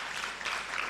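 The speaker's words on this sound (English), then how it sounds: "So can we give that applause to the women empowerment?" Dense, steady applause from a conference audience at the Renewable Energy Conference and Expo 2023 fills the whole second, with a broad wash of many hands clapping at once.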